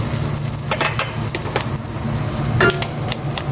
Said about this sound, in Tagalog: nagigisa na ng bawang at magsasangag na ako